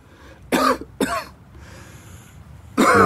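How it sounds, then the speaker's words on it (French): A violent coughing fit: a few harsh, close coughs in quick succession, a raspy throat-clearing pause, then another forceful cough. "pris d'une violente quinte de toux"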